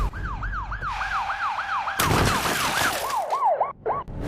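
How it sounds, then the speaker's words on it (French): An ambulance siren wails in rising and falling sweeps, fairly loud and nearby, with a burst of broadband traffic noise partway through and no talking. "Vous avez vu ça? C'était une ambulance."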